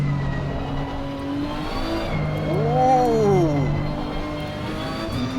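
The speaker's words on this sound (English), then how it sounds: "We're driving the Nissan GT3 in both cases." Nissan Nismo GT-R GT3 race car in the Assetto Corsa racing game, its engine droning steadily and then rising and falling in pitch through a rev swell, loud and close with no talking.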